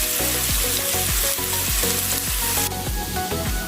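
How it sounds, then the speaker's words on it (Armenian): Chopped mushrooms fry in butter in a pan, a steady crackling sizzle broken by regular scraping strokes of a spatula stirring them. "Սունկը ոչ մանր կտորների բաժանեցի և կարագի մեջ կուղարկեմ տապակվելու։"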